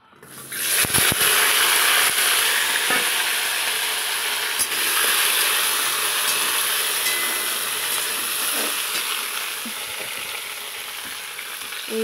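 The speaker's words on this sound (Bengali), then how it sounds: "এই দেখো বন্ধুরা, তেলটা গরম হয়ে গেছে, এবার পটলগুলো ভেজে নিব।" Pointed gourd (potol) pieces hit hot oil and break into a loud, dense sizzle that holds steadily close by, easing slightly toward the end, with occasional clinks of a utensil.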